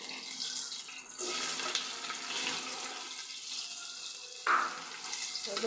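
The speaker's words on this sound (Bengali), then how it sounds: "জিরে ছেড়ে দিলাম, প্রথমে দিলাম তেজপাতা, তারপরে জিরে, তারপরে লং, এলাচ, দারচিনি সব দিয়ে দিলাম মধ্যে" Bay leaf, cumin, cloves, cardamom and cinnamon fry in hot oil for a chicken stew, giving a continuous close sizzle and crackle with a few sharper pops, no talk.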